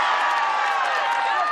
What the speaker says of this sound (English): this crowd getting on their feet to salute the Beast